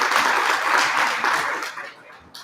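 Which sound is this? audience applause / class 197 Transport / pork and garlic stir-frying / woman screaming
audience applause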